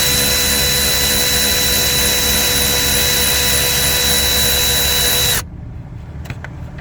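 A power tool whirs loudly and steadily on a bolt beneath a Jeep Compass, then cuts off abruptly, leaving a quiet tail with a few faint clicks and rattles.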